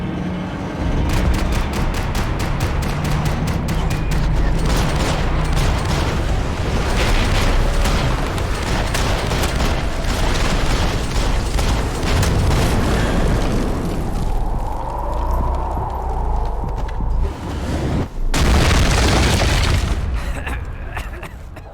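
Gunfire in the Max Payne 3 shooter game, rapid cracking shots and booming blasts in dense bursts with shattering impacts, loud and chaotic, with voices shouting over the action.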